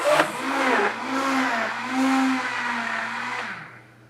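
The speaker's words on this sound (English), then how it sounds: "So I'm going to go ahead and just give this a quick little mix." Wet batter ingredients get a quick whir from an electric mixer or blender, a close steady motor hum with a few short pitch shifts, stopping after about three and a half seconds.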